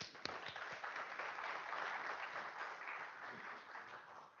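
A lecture audience claps faintly and somewhat distantly, a thin patter of scattered hands that carries steadily for a few seconds before tapering off.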